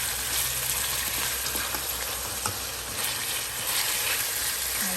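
Chicken pieces fry in a pan for a Filipino chicken curry, a steady, close, dense sizzle and crackle that runs unbroken throughout, with a faint stir or clink now and then.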